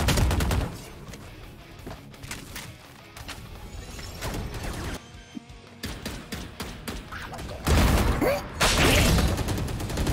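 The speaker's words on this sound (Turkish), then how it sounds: "Oğlum hala adam vuruyor lan." Rapid bursts of gunfire in the tactical shooter Valorant, loud, close bursts and single shots spread through the round, with thuds and impacts between volleys and no talk over it.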